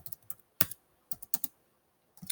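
Keys tapped on a computer keyboard for a Control+V paste shortcut, a run of sharp, close clicks in small uneven bursts with gaps between, no voice over them.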